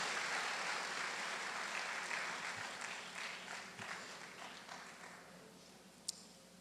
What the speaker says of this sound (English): A big round of applause for each one of you in this audience today.